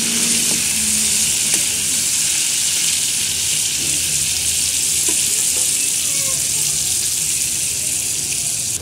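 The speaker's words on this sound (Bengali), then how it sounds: "আমি চিংড়ি মাছটা দিয়ে দিয়েছি তেলের মধ্যে।" Prawns seasoned with salt and turmeric fry in hot oil, making a loud, unbroken, close sizzle that holds steady for several seconds with faint scraping underneath.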